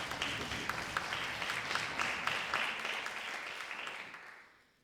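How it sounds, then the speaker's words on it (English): A live show audience claps steadily in a sustained burst of applause that tapers off near the end. "thank you for your applause"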